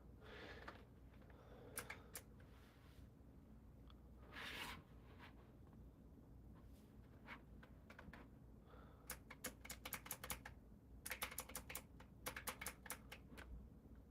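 Keys on a computer keyboard clatter close by in irregular bursts of quick clicks, some runs dense and rapid, with short pauses between, over a low steady room hum and no talking.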